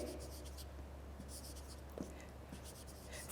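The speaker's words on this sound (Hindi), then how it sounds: "लिख लेते हैं यहाँ पर।" Chalk or pen scratching on a board in a classroom, quiet strokes with a few short taps over a steady low electrical hum.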